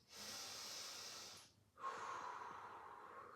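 A slow inhale followed after a short pause by a long, airy exhale, close and steady, during a guided breathlessness-management exercise of breathing while tracing a rectangle; no talking.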